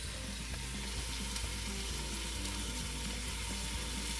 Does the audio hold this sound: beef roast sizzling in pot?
yes